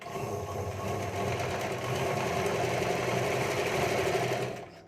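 A sewing machine runs steadily, stitching a finishing seam around a blouse neckline, with a continuous close whirring hum that holds for several seconds before cutting off at the end.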